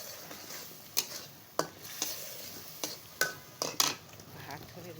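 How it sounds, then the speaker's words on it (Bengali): Spice paste of tomato, ginger, garlic, onion and ground spices being stirred and fried in a pot: a soft sizzle under sharp spoon scrapes and clinks against the pot, repeated irregularly every half second or so, close and quiet. "মশলাটা ভালো কষাই নিচ্ছি।"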